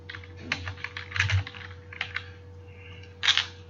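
A computer keyboard taps out an address in short uneven bursts of keystrokes, close and fairly quiet over a steady low hum, with no voices.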